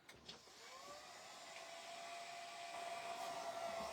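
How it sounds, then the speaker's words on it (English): Electric hair dryer blowing steadily on a mixed-media craft project built from a mini lantern, a continuous close whir with a rising whine that grows slightly louder over four seconds, no voices. "I think I'm actually going to continue to use the other dryer. I know it's a little bit louder,"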